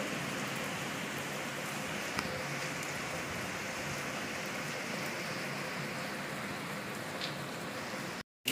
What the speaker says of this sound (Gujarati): સવારમાં વરસાદ ચાલુ થઈ ગયો છે